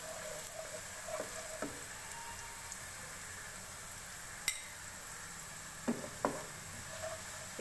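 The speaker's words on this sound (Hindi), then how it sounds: "ये प्याज हमारी फ्राई हो रही है।" Onions browned in a pan with cumin seeds added, frying quietly for a chicken keema, a soft steady sizzle with a few clinks and stirring scrapes scattered through.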